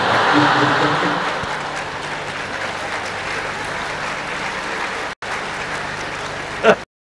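A crowd claps steadily for several seconds, a dense, sustained patter of applause that fades slightly toward the end before cutting off.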